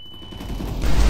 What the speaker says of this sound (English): I'm throwing a flash.